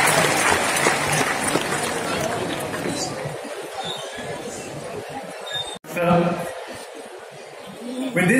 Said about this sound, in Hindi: एक बार उनके लिए भी उन जोरदार तालियों के साथ उनका अभिवादन करें